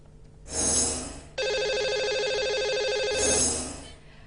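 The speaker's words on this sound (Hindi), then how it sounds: "तो लगाते हैं इन्हें अब कॉल और करते हैं इनसे बात।" A phone line rings as a call is placed: two swelling whooshes frame one long, steady electronic ring tone that holds for about two seconds, clear and moderately loud with no talk.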